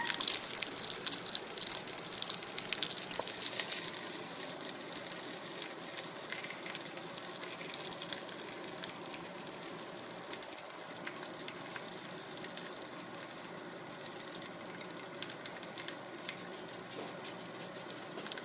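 Bacon fries in a pan with a soft, steady crackling sizzle, louder for the first few seconds and then settling into a quieter, continuous hiss with small pops.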